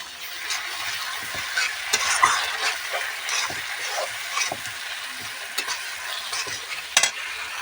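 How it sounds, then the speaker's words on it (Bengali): Ground cumin, ginger and coriander paste frying in a pan, a soft steady sizzle broken by frequent spatula scrapes and knocks against the pan, close up with no talking. "এবার এগুলো দিয়ে একটু ভালো মতন কষিয়ে নেবো"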